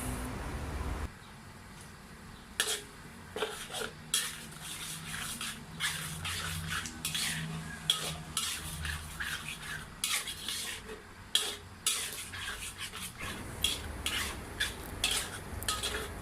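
Clams stir-fried in a pan with chili paste, fish sauce, sugar and seasoning powder; close, uneven scraping and clanking of a utensil against the pan, with a dull rumble early on and a low sizzle underneath.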